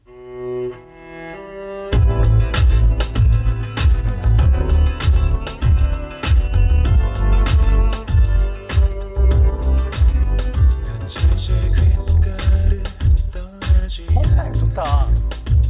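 Layered electronic music with a strong, punchy beat and low bass, sustained cello tones woven through, starting after a quieter intro, played on a Volvo EX30 car audio system.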